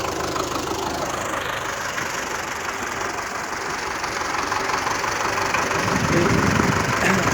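A Belarus 510 tractor engine runs steadily nearby, a continuous throbbing drone that grows a little louder toward the end.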